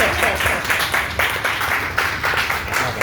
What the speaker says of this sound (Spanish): Pueden aplaudir, ¿eh?